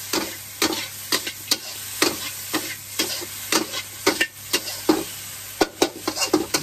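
Pork stir-fried with chili and salt in a pan over low heat, giving a steady close sizzle broken by frequent sharp scrapes and clanks of a spatula stirring, with no one talking.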